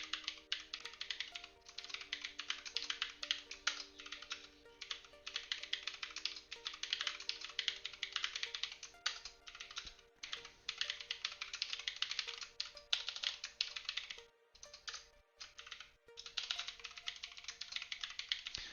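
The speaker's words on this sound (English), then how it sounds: "Typing sounds on point." Steady, rapid clicking of a computer keyboard during programming work, close and continuous with brief pauses in the rattling keystrokes, no speech.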